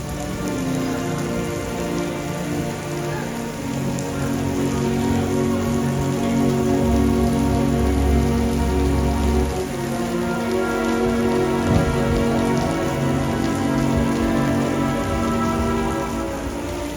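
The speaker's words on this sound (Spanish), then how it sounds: "hoy estaba lloviendo" Steady rain falls and patters on surfaces in the coastal Croatian city of Zadar, a dense, continuous wash of drops with no voices, holding at an even level throughout.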